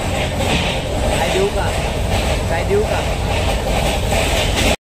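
Interior of a moving passenger train, a continuous loud rumble and rattle of the carriage with faint rhythmic clatter, while people talk close by.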